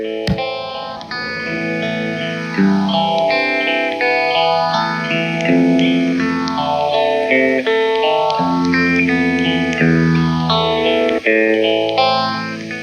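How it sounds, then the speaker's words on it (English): A Foxx phaser pedal, set near its slowest rate, sweeps a sustained guitar tone in slow, repeated waves, each rise and fall of the phasing lasting roughly three seconds, loud and steady after a brief sharp transient at the start. "to turn this on, it's a very noisy operation, and you'll hear a loud clunk and then it'll start phasing"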